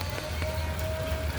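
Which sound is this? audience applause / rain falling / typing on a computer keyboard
rain falling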